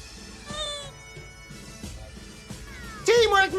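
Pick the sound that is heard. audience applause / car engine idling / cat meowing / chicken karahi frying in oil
cat meowing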